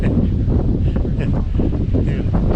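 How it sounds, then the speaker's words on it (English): Loud, continuous wind buffeting a microphone outdoors at Fort Pulaski, a dense low roar that swells and dips without letting up for the whole stretch. "I know it's a little windy, but it might be noisy."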